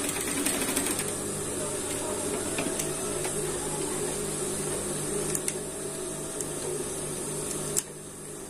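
A sewing machine set to its longest stitch length, 5, runs fabric through quickly, giving a steady continuous whirring hum with faint hiss throughout and a brief click near the end.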